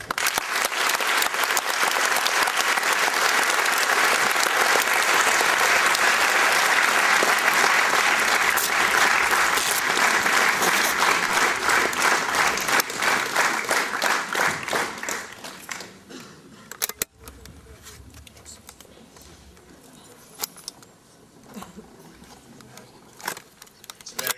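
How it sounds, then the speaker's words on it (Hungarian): A large audience bursts into loud, dense applause to welcome a spiritual teacher onstage, sustained for about fifteen seconds before tapering into scattered claps and a quiet room. "Kérem, hogy fogadják Maharajot egy nagy-nagy tapsal"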